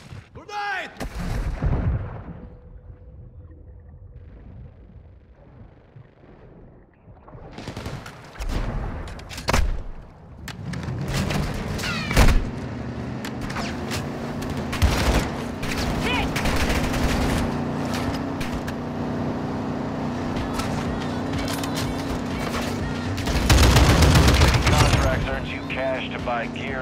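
Video game combat: a grenade blast and heavy gunfire, with loud booming explosions and sustained bursts of automatic fire that rise and fall over nearly half a minute, while voices call out in between.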